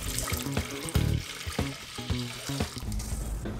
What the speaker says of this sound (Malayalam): ഈ പാനിലേക്ക് നമുക്ക് 2 കപ്പ് വെള്ളം ഒഴിച്ചു കൊടുക്കാം.